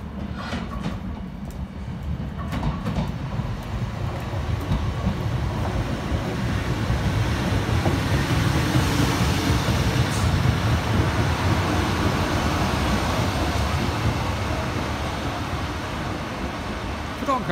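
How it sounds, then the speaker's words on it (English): East Midlands passenger train service from Peterborough to Doncaster at Sleaford railway station, a steady loud rumble of the train running throughout with some clatter, voices faintly present. "Here's the 12:42 East Midlands train service from Peterborough to Doncaster."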